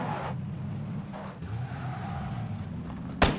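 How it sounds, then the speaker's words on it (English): A car engine in the video game PUBG drones in a low, steady rumble nearby, with a sharp brief crack near the end. "Car pulling up just around here somewhere too."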